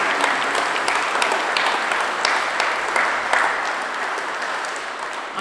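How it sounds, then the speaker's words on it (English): Wedding guests applaud the newlyweds in a steady, dense round of clapping that fills the room, loud and sustained throughout with no speech over it. "Please give another round of applause for Mr. and Mrs. Kopelani."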